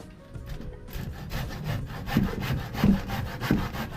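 Hand saw cutting wood up close, rhythmic back-and-forth rasping strokes that grow louder, with no talking.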